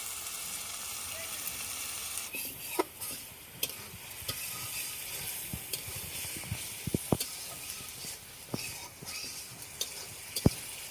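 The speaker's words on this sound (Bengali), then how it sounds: "কষাবো আলুগুলা।" Potatoes stir-fried with ground spice paste for a river pangas fish and potato curry give a steady close sizzle. Scattered sharp ticks and clinks from the stirring utensil run through it, and nobody speaks.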